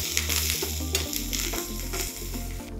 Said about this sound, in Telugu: ఇప్పుడు దీంట్లో తాలింపులో కూడా కొంచెం కొత్తిమీర వేయండి